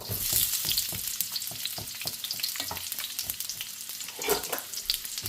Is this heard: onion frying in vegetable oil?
yes